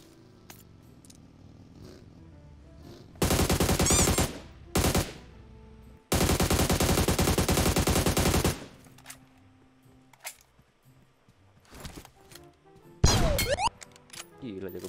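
Bursts of automatic weapon fire from a Vector submachine gun in a squad shooter video game, loud sustained volleys separated by quieter gaps with scattered single shots and game clatter.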